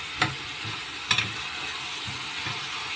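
Sizzling fills a pan of sautéed mung beans with onion, tomato and ground meat as soy sauce is added, a steady frying hiss broken by a couple of sharp utensil scrapes.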